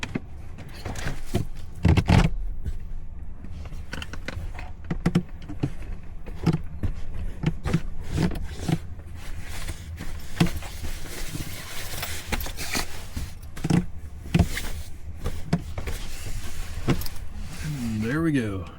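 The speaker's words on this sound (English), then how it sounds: "Alright, time to fold out the bed." Folding out the bed inside a Volkswagen Vanagon camper on a snowy night brings a steady series of clunks, knocks, scrapes and rattles from the folding frame and cushions, moderately close, with no talking over it.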